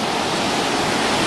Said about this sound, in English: Got a big set of waves happening.